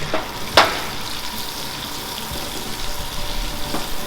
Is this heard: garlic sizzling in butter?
yes